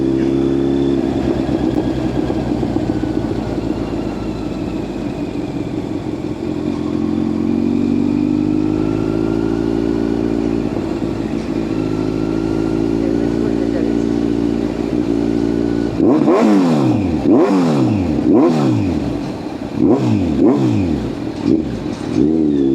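A costly motorcycle revs hard, its exhaust silencer spitting flames: a steady, close idle drone gives way to several sharp, loud rising and falling revs near the end.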